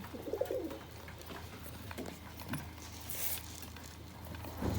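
Pigeons coo softly on a balcony, giving a few low, short calls over quiet background noise, with faint shuffling and light patter between them.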